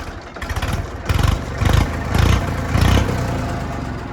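An old DI tractor's diesel engine running close by, loud with a rhythmic chugging firing pulse that swells in repeated surges, heard alone.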